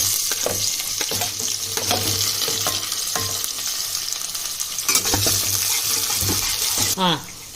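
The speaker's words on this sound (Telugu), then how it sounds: "ఇప్పుడు ఉల్లిపాయలు వేసుకుందామండి. ఆయిల్ వేడెక్కింది." Onions fry in hot oil with a steady close sizzle and intermittent stirring scrapes and clinks, plus a short splashy water sound near the end.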